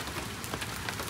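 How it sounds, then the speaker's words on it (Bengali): Hail patters densely on the ground and surfaces outdoors in a brief, steady wash of tiny impacts with no voices. "এই হেল হয়েছে, হেল। এই যে আবার পড়ছে, আবার পড়ছে।"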